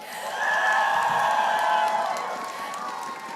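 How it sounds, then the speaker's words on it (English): A crowd cheering at esports playoffs in the MPL PH Season 14 arena, a sustained roar that swells and then slowly fades, with scattered shouts and a whoop above it. "a lot of people are cheering for you"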